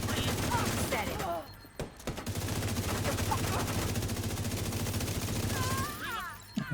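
Steady automatic gunfire in a first-person shooter, a long loud run of rapid shots with a short break, while voices speak over it now and then.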